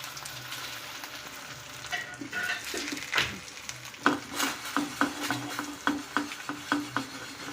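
Aloo tikki set into hot oil in a pan on an induction cooktop, three patties in all: a steady sizzle of frying under a run of quick, evenly spaced scrapes and taps from a utensil, close and fairly loud, with no talking.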